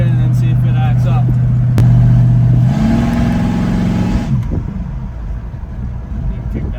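A Willys jeep engine revs up through the gears, a loud close drone that climbs in pitch, shifts, then roughens and breaks up before easing off, with someone talking over part of it.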